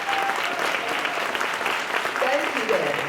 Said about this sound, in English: Let us all give Danny a big round of applause.